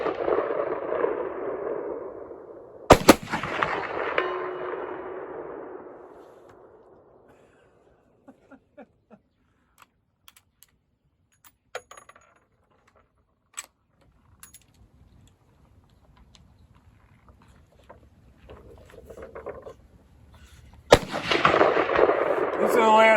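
Two sharp, loud shots from a Marlin 336 lever-action rifle in .35 Remington, fired at a target 240 yards out, come about eighteen seconds apart. Each blast rolls off in a long fading echo, with faint clicks and quiet in between.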